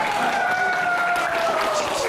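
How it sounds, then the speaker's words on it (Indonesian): An audience at a fitness Q&A session claps for a participant, a soft continuous wash of applause under a sustained tonal hum, with voices faintly present. "Gimana tepuk tangan buat dia."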